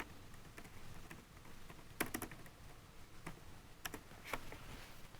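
Quiet keystrokes on a computer keyboard while a command is entered, a few scattered clicks then short bursts of taps, faint and close with no talking.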